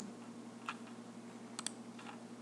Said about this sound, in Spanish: Déjenme darle doble clic.